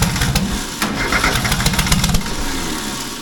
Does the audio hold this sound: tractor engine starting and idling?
yes